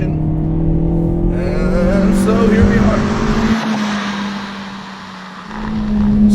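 A Hyundai Veloster Turbo R-Spec engine accelerates from inside the car, with a steady drone that climbs in pitch, eases off and then pulls again. Road and tire noise sit underneath, and someone talks over it.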